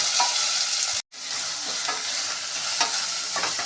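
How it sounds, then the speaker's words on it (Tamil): Green chillies and long-sliced onions frying in masala for brinji rice, a steady loud sizzle with stirring scrapes throughout and one brief cut to silence near the start. "பச்சை மிளகா, நீளமாக கட் பண்ண வெங்காயம், ஓரளவு ஃப்ரை பண்ணிக்கணும்."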